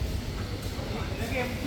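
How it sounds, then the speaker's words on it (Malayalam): A passenger train bound for Bangalore rumbles at a railway station, a continuous low, noisy drone close by with voices mixed into the background. "ഇതാണ് നമ്മുടെ ട്രെയിൻ."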